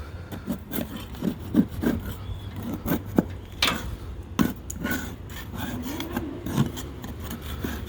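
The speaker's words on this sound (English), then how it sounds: "this is not a sharp scraper. This is a dull scraper." A dull hand scraper drags across wood, peeling off old, poorly prepped paint in repeated close rasping strokes. The gritty scrapes come in an uneven rhythm with brief pauses, and no one speaks.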